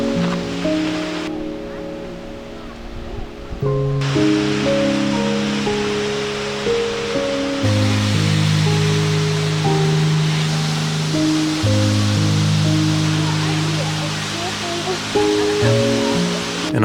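South Falls at Silver Falls State Park, Oregon, roars as a steady broadband rush of falling water, partly masked by louder music playing over it.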